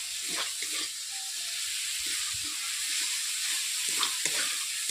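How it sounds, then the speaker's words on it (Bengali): Papaya and potato with spices sautéing in a pan, an even sizzling hiss broken by repeated stirring scrapes and taps of a spatula, close and with no speech. "ওটা ভালোভাবে আমি কষিয়ে নিচ্ছি এক থেকে দু মিনিট"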